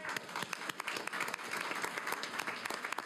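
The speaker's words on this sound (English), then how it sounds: "Applause." An audience at a metropolitan public school board meeting applauds a recognized elementary art teacher, a steady patter of many hands clapping at moderate distance for about three seconds, with no voices over it.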